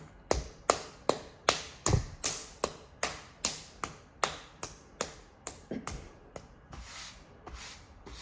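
A 900 gram ball of pottery clay is smacked back and forth between two hands. About twenty sharp, close slaps follow one another in a brisk, steady rhythm, with no talking.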